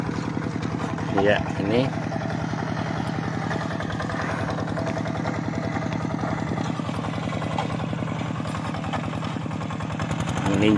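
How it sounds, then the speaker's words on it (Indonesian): A hand tractor plowing a rice paddy in Pedu village, OKI, chugs with a steady, loud, rhythmic single-cylinder engine throughout, close by, while someone speaks briefly over it. "lincah beliau melakukan pembajakan sawahnya menggunakan hand traktor atau traktor tangan."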